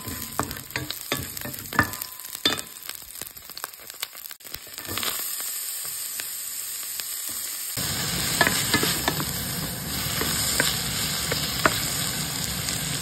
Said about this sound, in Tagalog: Hahalo ko na yung sibuyas. Ano na siya. Medyo brown na yun.